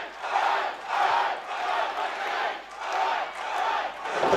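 A big wrestling crowd at a live event in Adelaide roars and cheers in rising and falling waves, the loud, dense crowd noise swelling roughly every second and a half with no clear speech.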